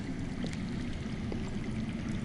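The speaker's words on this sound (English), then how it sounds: "I hear water. From underground." Water flows steadily underground with a constant, rushing wash that runs evenly the whole time, with no voices over it.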